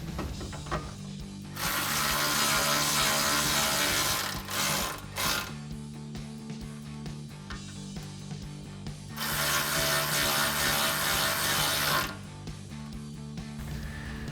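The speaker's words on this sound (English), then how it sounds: "we'll take that same 3/16 Allen bit to tighten these down" A power driver fitted with a 3/16 Allen bit tightens bolts on AMP Research PowerStep XL running boards on a Jeep Gladiator JT, producing two sustained, close whirring bursts separated by quieter pauses.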